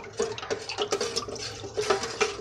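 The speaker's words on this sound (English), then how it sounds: "Now I'm just going to stir it for 2 minutes." A utensil stirs melted black cherry scented wax in a pot, producing rhythmic clinks and liquid swishes close up, repeating in quick uneven strokes without speech.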